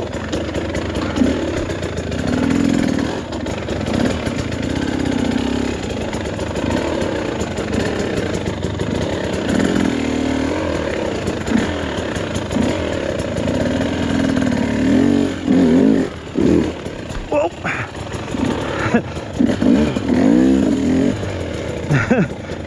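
A Husqvarna TE300 two-stroke dirt bike engine idles roughly and revs up in short bursts, loud and close throughout, with a brief spoken remark over the engine.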